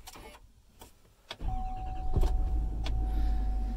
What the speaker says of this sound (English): Here, I'll start this truck up.